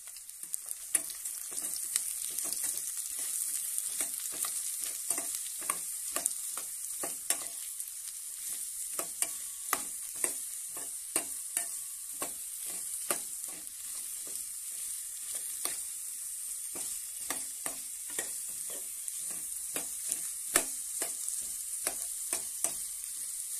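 Mango pieces fry with onions in a pan, giving a steady oily sizzle broken by frequent scraping clicks of a stirring spoon, close and continuous with no voices.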